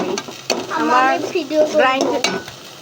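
Spice paste fries in a pan while a utensil stirs and scrapes against the metal. Bursts of sizzling and clinking come in quick, uneven strokes, close and fairly loud.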